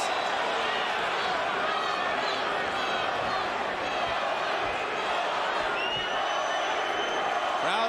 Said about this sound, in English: Crowd is chanting,